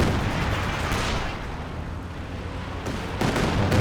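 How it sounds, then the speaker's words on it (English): Katyusha rocket barrage in the strategy game Company of Heroes 2: a dense, loud, sustained rumble of blasts and booms filling the whole span, swelling again near the end. "Decent Katyusha barrage there coming through."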